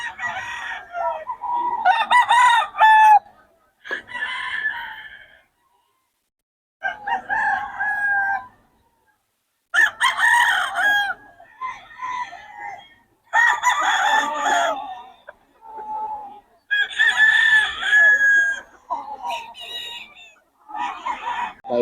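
Roosters at a gamefowl farm crowing repeatedly and loudly, near and overlapping, with short pauses of quiet between bursts and occasional clucks.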